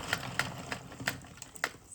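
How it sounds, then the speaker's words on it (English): The handle of an Addi 22-pin knitting machine turns with a series of faint, soft clicks as the needles move. There are about six of them, quiet and somewhat irregular, in a still room with no voices. "I turn this the handle until this first black needle reaches to this area right here"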